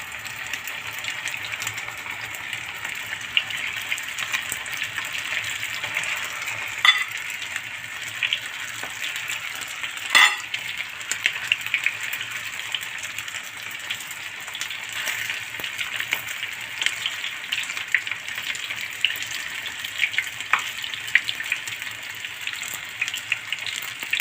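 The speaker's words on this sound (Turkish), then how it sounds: "Son içli köftelerimizi kızartıyoruz." Steady crackling sizzle of stuffed bulgur meatballs (içli köfte) deep frying in hot oil, continuous and fairly soft, with occasional louder pops.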